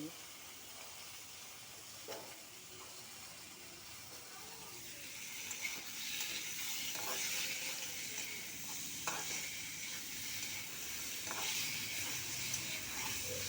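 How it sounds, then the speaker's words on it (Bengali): Spice paste sautéing and being stirred in a pan while cooking with prawns, a steady soft sizzle and hiss that grows louder midway, with occasional scraping stir strokes close by. "মশলাটা ভালো করে কষানো হয়ে গেছে।"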